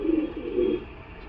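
A Madras pigeon coos twice in soft, low, rounded calls, close and alone against a faint steady background hum.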